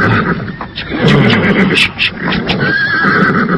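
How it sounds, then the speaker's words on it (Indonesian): A horse in an Indonesian radio drama whinnies loudly and close in a shrill, wavering neigh, with hoof clip-clops and a voice in the mix. "Dengan wajah tegang, Senopati Tumapel itu menenangkan kudanya."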